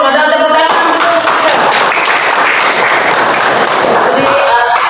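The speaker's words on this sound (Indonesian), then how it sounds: "Ada tepuk tangan." Students applauding in a ninth-grade classroom, a burst of loud, dense clapping lasting about four seconds that starts abruptly and stops just as sharply.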